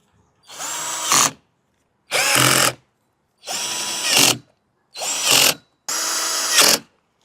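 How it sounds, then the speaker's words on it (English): A power drill whirs in five short bursts, each about a second long, with brief silent pauses between as bolts are driven tight on a solar street light pole. "then go through and tighten everything down with my drill"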